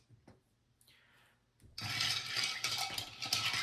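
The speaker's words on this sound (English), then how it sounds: "we won't be shaking, we'll be stirring" A cocktail stirred with a bar spoon whose head spins on its own, beginning with faint clinks and a quiet rub, then a continuous close scraping, swirling rattle of ice against glass.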